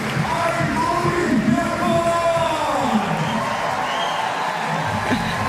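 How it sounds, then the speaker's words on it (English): Large crowd cheering and yelling at an Innsbruck lead-climbing semi-final, a loud continuous roar with whoops and shouts rising and falling throughout. "Listen to that crowd."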